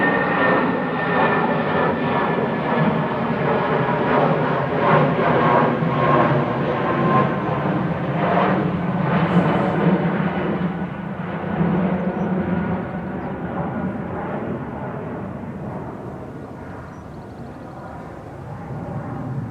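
Eurowings A319 jet, registration D-AGWX, climbing away from Manchester Airport bound for Dusseldorf, with a loud sustained engine roar carrying tonal whine that fades gradually as the aircraft recedes.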